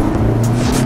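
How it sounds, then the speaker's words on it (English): Turbo of a 2018 Honda Civic Type R under way, a steady close engine drone with a tonal whine and faint airy hiss rising briefly on top, continuous and fairly loud inside the car. "Yeah, you can hear the turbo."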